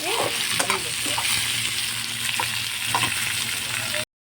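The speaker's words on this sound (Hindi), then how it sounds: "हमारा तेल गरम था, इसलिए हम इस तरीके से अपनी प्याज को अच्छी तरीके से भून लेते हैं।" Onions fry in hot oil with a steady, dense sizzle and crackle, broken by occasional stirring scrapes, close and even until the sound cuts off abruptly.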